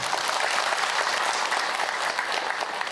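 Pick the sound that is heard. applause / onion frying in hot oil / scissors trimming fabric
applause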